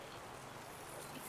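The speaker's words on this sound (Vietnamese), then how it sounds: "giờ này mưa quá trời ổng mưa cô bác ơi" Heavy rain falling in Da Nang, a dense, steady hiss of downpour at low level with no distinct drops.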